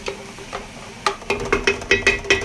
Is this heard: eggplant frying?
yes